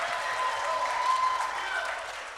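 Audience applause at a mayoral candidate forum in Springfield, Massachusetts, a steady wash of clapping that fills the whole short stretch at moderate level, with a faint tonal hum running under it.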